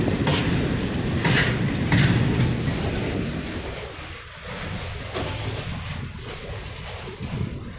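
Superfast train arriving at Hubballi Junction at night, a loud continuous rumble with wheel clatter and brief sharper clanks, fading somewhat toward the end.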